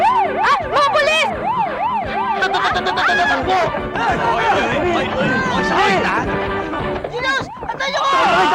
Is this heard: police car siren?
yes